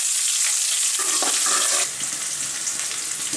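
Chopped onions and curry leaves fry loudly in hot oil, a bright, close, steady sizzle that flares with spattering at first and then settles slightly softer, with a few stirring scrapes.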